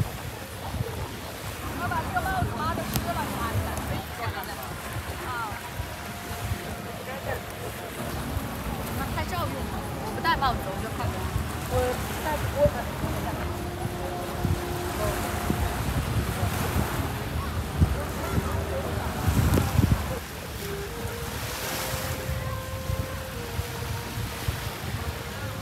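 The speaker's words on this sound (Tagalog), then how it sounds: "Malakas ang amihan." A strong northeast monsoon wind blows across the sea at Boracay, a steady, gusty roar buffeting the microphone over surf, with people talking at times.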